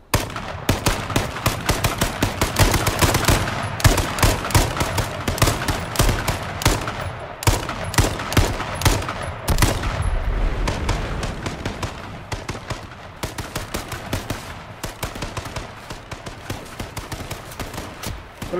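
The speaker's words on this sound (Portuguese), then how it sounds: "Tô levando tiro, Kurt." Rapid bursts of gunfire ring out in the online shooter game H1Z1, loud repeated shots and automatic volleys crowding together, then thinning out toward the end.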